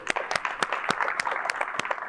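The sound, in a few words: audience applause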